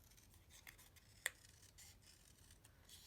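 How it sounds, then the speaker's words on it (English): Scissors snipping the end off a paper craft banner embellishment, one quick quiet snip in an otherwise near-silent room. "Just snipping off the end."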